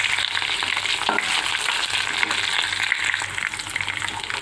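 Green chillies and onions frying in a pan, with a continuous bright sizzle and a few clinks of stirring in the foreground and a low hum underneath.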